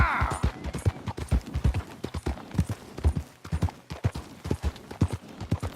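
Galloping horse hooves in the video game Red Dead Redemption 2, a fast, steady clip-clop rhythm of heavy thuds running throughout, close and prominent.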